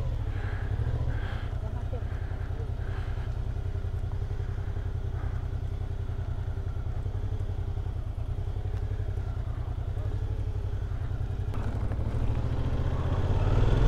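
Motorcycle engines of all sizes drone steadily nearby on a Brazilian mountain road, swelling louder toward the end as one rides closer, with voices talking faintly underneath.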